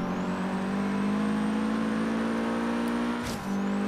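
A car in Forza Horizon 3 holds a loud, high, steady engine drone at sustained revs, then briefly dips as a gear shifts and picks back up.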